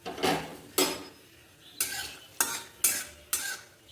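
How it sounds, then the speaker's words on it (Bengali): Peanuts frying in hot oil in a kitchen pan, stirred in sharp, regular scraping strokes about every half second over a soft sizzle, close and clear. "বাদামটাকে ভালো করে ভেজে তুলে রাখবো"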